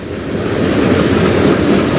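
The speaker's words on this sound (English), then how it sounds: "This is one of the snail trains." A slow CN freight train rolls past on the Strathroy Subdivision, a steady, loud, close rumble of wheels and cars with a dense low roar that holds for the whole stretch, no talk over it.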